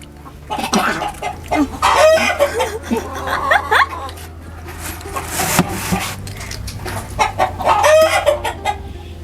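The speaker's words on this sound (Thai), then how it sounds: "เสียไก่" Chickens clucking and a rooster crowing nearby, loud and repeated in irregular bursts over a steady low background hum, with people talking at times.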